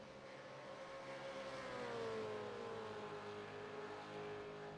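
V8 Supercars racing at Phillip Island circuit: a loud engine roar at full throttle that sweeps down in pitch as the car goes by, steady and continuous, with no talking.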